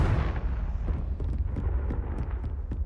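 Confringo fire spell blast in the video game Hogwarts Legacy: a continuous roaring, booming burst with crackling pops scattered through it, loud and sustained for a few seconds with no voice over it.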